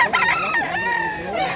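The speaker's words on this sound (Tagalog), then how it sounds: "Ang manok ni Busing" A nearby rooster crows loud and drawn out, with wavering, strained calls filling the whole moment.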